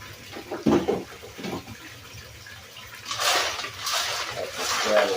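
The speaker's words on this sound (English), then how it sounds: "Let this gravel wash a little bit." Water running and splashing over gravel and clay in a gold pan or sluice, a steady wash that swells louder and brighter in the second half, with faint handling noises early on.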